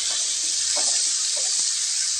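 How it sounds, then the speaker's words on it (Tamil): Onions sizzle and sauté in a hot pan for a South Indian pea dish, a constant bright frying hiss with a few soft stirring scrapes, close and alone. "வெங்காயம் நல்லா வதங்கட்டுங்க."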